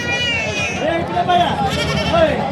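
A goat bleats in wavering, drawn-out cries, close by, while a person talks over it at the Begampur goat market.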